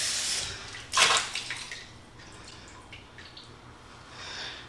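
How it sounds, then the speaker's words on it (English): Running water rinses a cast iron pan, a soft steady splash with a brief louder gush near the start, close and alone with no talk. "So give that a quick rinse again."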